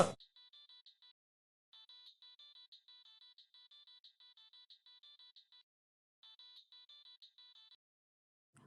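A bright electronic phone ringtone plays a quick repeating melody in three bursts with short pauses between, clear and isolated against silence.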